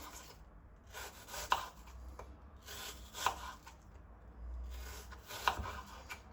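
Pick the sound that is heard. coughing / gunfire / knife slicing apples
knife slicing apples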